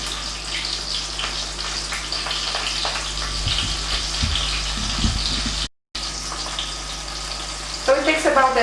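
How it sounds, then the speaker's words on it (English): Breaded Polish pork cutlets, kotlet schabowy, fry in a pan with a steady, close sizzle and crackle that runs throughout, briefly cut out once before resuming with sharper popping. "So now it's better to reduce the heat a bit, and yeah, they are frying."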